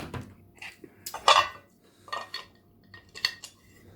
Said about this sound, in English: Then you got these little handles that click on